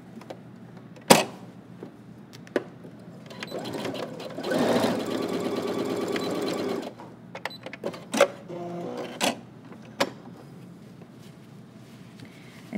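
A sewing machine stitches a pant hem in a short burst of about two seconds of rapid whirring, surrounded by quiet handling noises, clicks and fabric rustles nearby.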